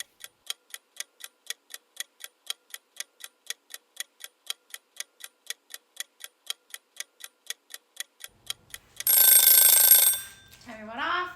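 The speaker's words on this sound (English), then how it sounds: "Timer went off." A kitchen timer ticks steadily in a fast, even rhythm for several seconds, then a loud bright ring bursts out and stops, followed by a brief voice, all close and clear in a quiet kitchen during bread baking.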